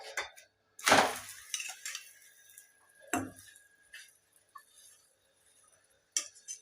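Metal utensil clinks and scrapes against a pan while an aloo paratha is flipped and oiled, giving a few sharp, close knocks spaced apart with quiet gaps and no talking.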